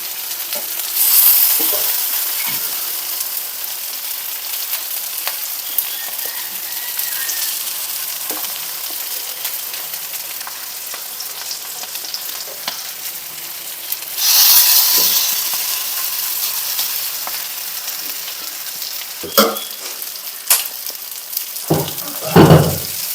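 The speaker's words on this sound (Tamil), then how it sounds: "அவ்வளவுதான் கருவாடு நல்லா ஃப்ரை ஆயிடுச்சு" Dried fish frying in a pan, a loud continuous sizzle and hiss with occasional stirring scrapes and clinks, the sizzle swelling at a couple of points as the fish is moved.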